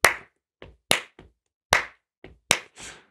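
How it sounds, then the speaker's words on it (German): Hands clap four loud, evenly spaced beats, with softer claps falling between them in a lilting six-eight pattern. The claps are close, crisp and alone, with no voices. "Da klatscht, klatschen die Hände vier Schläge auf dem Metrum von einem Sechsachtel."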